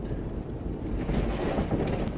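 Strong, continuous wind roars and buffets the microphone along a flat, dusty Oklahoma stretch of the Trans-America Trail, a loud low rumble with no talking.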